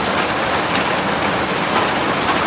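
Steady rain falls and patters on surfaces in a dense, continuous hiss, loud and close with no other sounds.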